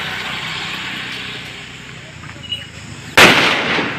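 A firecracker goes off on Diwali night, one sudden sharp bang near the end followed by a noisy crackling tail. Before it there is steady outdoor background noise and voices.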